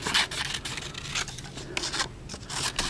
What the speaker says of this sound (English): And then with my scissors, I'm going to cut